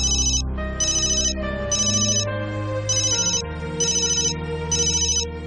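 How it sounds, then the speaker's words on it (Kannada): A telephone rings with a melodic electronic ringtone in repeated, evenly spaced bursts over a steady tone. It is clear and close, with no talking. "ಮನೆ ಒಳಗೆ ಬಂದಾಗ ಫೋನ್ ರಿಂಗ್ ಆಯ್ತು."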